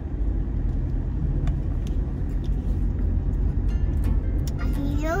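A car drives slowly around a residential subdivision, heard from inside as a steady, low engine and road rumble, with people talking over it.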